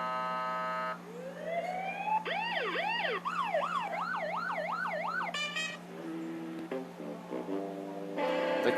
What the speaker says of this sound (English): And police sounds.